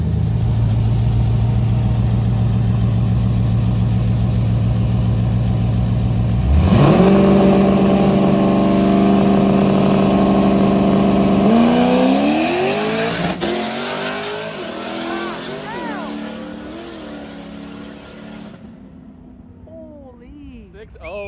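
A Jeep engine idles steadily on a private race track, then surges loudly into hard acceleration with rising revs through gear changes before fading into the distance as it pulls away; voices talk over parts of it.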